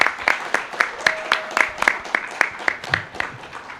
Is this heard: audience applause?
yes